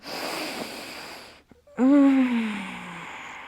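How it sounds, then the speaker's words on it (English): A yoga student lets out a big yawn during a full-body stretch: an airy inhale, a brief pause, then a loud, voiced, falling yawn sound up close. "stretch arms overhead, reach through your fingers and toes, big full body yawn"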